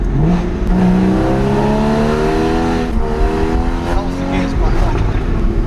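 A Porsche Cayman 981 base engine in Sport Plus mode revs hard and rises in pitch through several gear pulls, loud and raspy, with brief exhaust crackles near the end.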